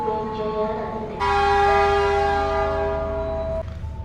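The Gajayana executive passenger train, with new-generation stainless steel carriages, sounds a loud multi-tone horn blast lasting a couple of seconds as it departs Solo Balapan station, over low rumbling station noise.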